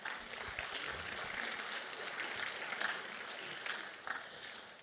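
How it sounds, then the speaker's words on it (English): A crowd at a Broadway honorees event applauds steadily throughout, dense clapping from many hands with a slight swell in the middle. "All of you all deserve your own round of applause"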